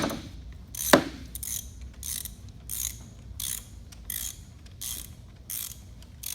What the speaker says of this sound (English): you really can just use the socket to tighten it down